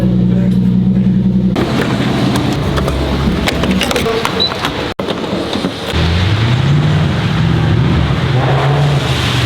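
An all-wheel-drive Infiniti Q50 drives through snow at around 30 degrees, with a loud steady rumble of engine and tires and a rise in engine tone partway through, while someone talks over it.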